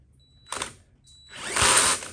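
A cordless drill whirs briefly, pauses, then runs again in a longer, louder burst with a grinding, straining edge, close by.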